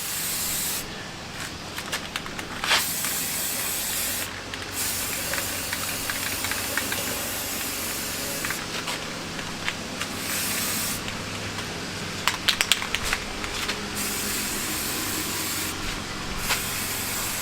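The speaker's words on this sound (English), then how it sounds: "You want to try and spray from different angles." Spray paint hisses from an aerosol can onto a rifle outdoors in strong wind, several bursts of varying length with short pauses between, close and steady over a constant wind rumble.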